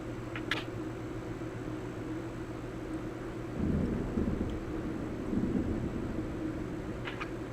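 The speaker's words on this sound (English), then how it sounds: "Did you just experience thunder?" Distant thunder, a low heavy rumble that rises twice over steady background noise and dies away, with no talking.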